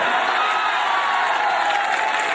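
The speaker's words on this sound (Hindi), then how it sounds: "तालियां तो अब उठेंगी" Audience at a Dr. Kumar Vishwas poetry recital breaks into applause and cheering, a steady, dense roar of clapping and shouts filling the room evenly for the whole stretch.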